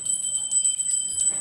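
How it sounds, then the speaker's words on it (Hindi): A small puja bell rung by hand during a Vat Savitri puja, giving a steady, bright metallic ringing with a few renewed strikes over a short span, close and clear with no talking. "घंटी को बजा करके"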